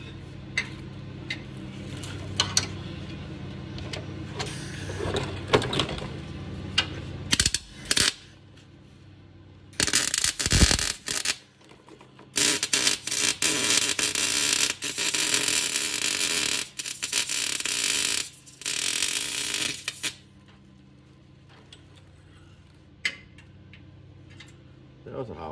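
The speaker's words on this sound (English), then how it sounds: "So we'll go ahead and weld the other side." Welding on the other side of an undermount anti-roll bar on a G-body car, with long stretches of harsh sustained crackle and buzz broken by brief pauses, up close and loud, after scattered handling clatter.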